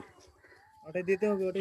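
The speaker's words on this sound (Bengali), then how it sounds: "কোকিল পাখি ঘুঘু পাখি ওরা কিন্তু ডাক দিচ্ছে" A dove coos in low, soft repeated pulses in the Sundarbans, and a person talking nearby partly covers the call.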